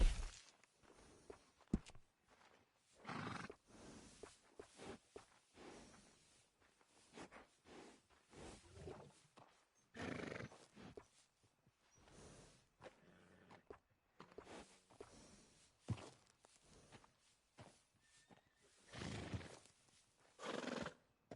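Horses whinny and neigh in several bursts, with hooves clopping between them; a quiet, roomy Red Dead Redemption 2 soundscape with no talking.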